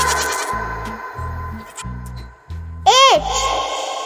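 A goat gives one short, wavering bleat near the end, loud and close, after a voice speaks in a rhythmic, sing-song way.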